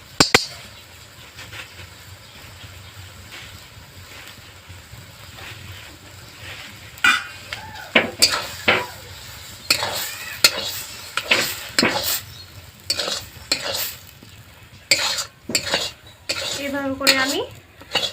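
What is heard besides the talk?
stirring patishapta dough with a spatula in a pan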